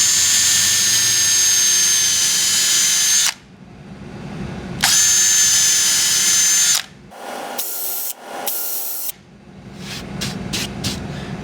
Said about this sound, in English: and drill down 1 centimeter.